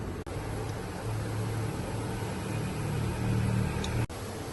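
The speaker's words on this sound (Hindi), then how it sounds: "देखिए माशाल्लाह से हमारे जबरदस्त स्नैक्स जो हैं फ्राई हो रहे हैं" Potato balls frying in hot oil, a steady close-up hiss and crackle of bubbling fat, even and continuous with no talk.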